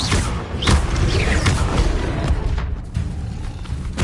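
Confringo fire-spell explosions in the Hogwarts Legacy video game: loud, repeated booming blasts and heavy thuds in quick succession, with no talking.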